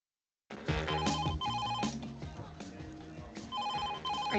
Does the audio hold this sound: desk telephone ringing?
yes